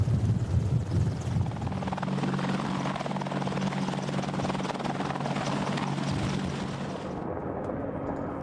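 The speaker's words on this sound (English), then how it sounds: "ensure the chopper is stable and controllable during takeoff" An AH-64 Apache helicopter taking off makes a steady, heavy rotor thrum with a deep low drone and broad engine whine, loud and continuous, with no voices.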